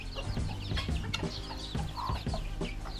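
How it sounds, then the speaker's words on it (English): Many backyard chickens and guinea fowl in a small city-yard coop cluck and squawk continuously, with overlapping calls from a large flock of over a hundred birds close by. "we have about over 100 chickens and about 15"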